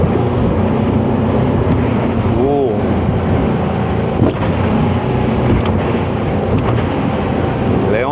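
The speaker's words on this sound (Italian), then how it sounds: "E ora impegniamo il nostro maxi rib in un curvone largo e veloce." A 10 m Scanner Envy 950 maxi RIB speedboat carving a wide fast turn on rough sea, with steady engine roar mixed with wind buffeting the microphone and water rushing past the hull throughout.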